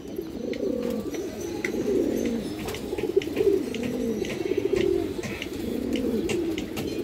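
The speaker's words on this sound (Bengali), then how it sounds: "ডাকটা একটু দেখেন আপনারা মাশাআল্লাহ, আর ডাকটা দেখেন" Pigeons coo in steady repeated phrases from a loft of fancy breeds including Hemar, Silver, Beji, Chulli, Mushaldom, Bagha and green-, black- and brown-throated birds, close and continuous with faint chirps in the background.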